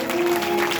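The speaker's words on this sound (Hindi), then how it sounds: "ताली तो बजा दो।" An audience claps together at a Bhagwat Katha devotional gathering at Seva Dham, Krishna Vihar, a brief burst of steady, dense applause with a faint sustained tone running underneath.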